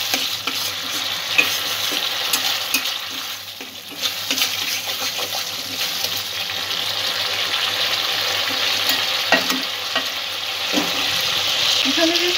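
Spices and ingredients being sautéed in a pan for chaal potol, a steady loud sizzle with frequent spoon scrapes and stirring knocks, close-up, briefly dipping before swelling again.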